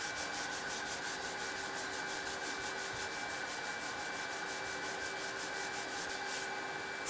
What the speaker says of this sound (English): a suitably sized hand block is selected from the 3M dust-free range and fitted with P80 sheets for initial filler shaping